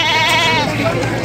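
A goat bleats in a classroom drama performance, a loud, wavering, drawn-out cry filling the moment, apparently voiced by a performer imitating the animal.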